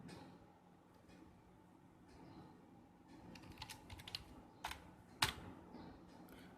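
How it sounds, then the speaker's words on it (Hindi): Tab and Enter keys pressed on a computer keyboard, a scattering of soft clicks and taps that grow more frequent and louder toward the end, with one sharper press near the close, over a low room hum. "टैब दबाया, एंटर, फिर टैब दबाया"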